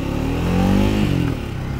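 A 2024 Triumph Speed 400 motorcycle pulls away in first gear, its single engine revving up with a steady, rising throb close by, then easing off, with no talk.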